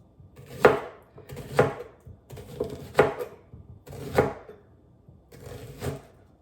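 A kitchen knife chops vegetables on a cutting board during gluten-free dinner meal prep, giving five distinct sharp chops spaced roughly a second apart, close and clear, with quiet pauses between them and no talking.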